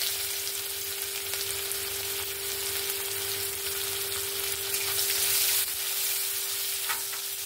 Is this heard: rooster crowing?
no